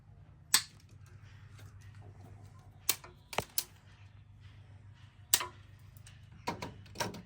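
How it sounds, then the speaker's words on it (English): Light cable for an AluCab on a vehicle being cut to length, heard as a few sharp, isolated clicks and snips spaced over several seconds against a faint low hum. "So we cut it off at the correct length."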